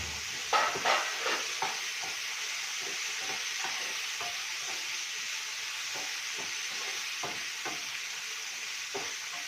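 Spinach biryani cooks on a high gas flame in a pot, giving a steady sizzling hiss while a spoon stirs and scrapes in irregular soft strokes throughout.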